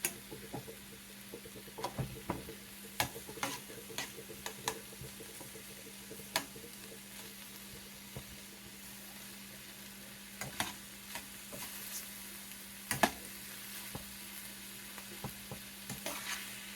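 Orange beef and vegetables sizzle steadily in a pan while being stirred, with scattered scraping clicks from the utensil over a continuous frying hiss.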